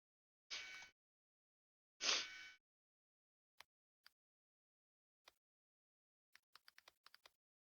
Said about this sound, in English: I'm typing in Twitter right now.